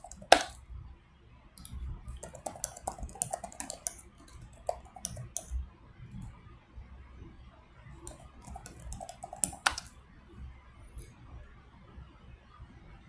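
Typing on a computer keyboard, with steady soft clicks and taps in an uneven rhythm and a few sharper, louder keystrokes, close and quiet, with no voice.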